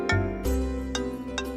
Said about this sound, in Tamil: தினேஷ் தான் ஃபோன் பண்றான்.